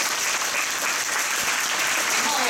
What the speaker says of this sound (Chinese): 你们用一个热烈的掌声，先感谢我们所有的指导老师